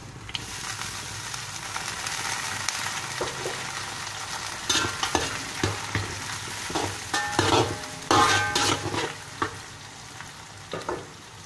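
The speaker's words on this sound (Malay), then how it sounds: "saya nak garingkan ni sikit dulu" Four whole spices (empat sekawan) frying in hot oil for a chicken curry: a steady close sizzle and hiss, with stirring scrapes and clatters growing busier toward the end.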